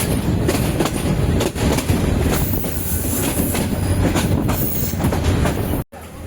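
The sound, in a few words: train at Gouripur station, Mymensingh to Chittagong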